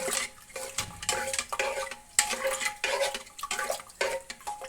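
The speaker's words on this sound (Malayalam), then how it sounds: "ഞാൻ ഉപ്പിട്ട് ഒന്ന് ജസ്റ്റ് ഇളക്കി കൊടുക്കാൻ പോവുകയാണ്" A spoon stirs salt into coconut rice inside a pressure cooker, scraping and clinking against the metal in quick, repeated strokes, close and alone with no voices.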